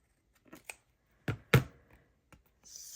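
Scissors trimming paper ephemera during junk-journal crafting, giving a few short, close snips and crisp cuts spread through a quiet moment.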